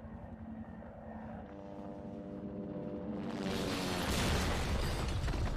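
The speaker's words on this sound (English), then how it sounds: "Helicopter." Helicopter in the video game Resident Evil 2 Remake, a low rhythmic rotor chop that grows steadily louder and fuller as it approaches, ending in a broad roaring wash close by.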